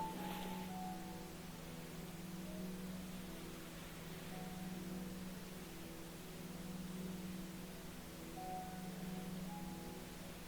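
Steady pink noise plays as an ambient relaxation bed, an even, unbroken hiss at low level with faint tonal drones beneath, no voices present.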